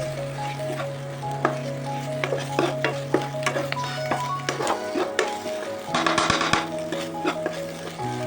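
Egg stir-fried and scrambled into small crumbly pieces in a pan for vegetable egg chow mein, a steady close sizzle with repeated utensil clicks and scrapes against the pan, under a faint tonal hum.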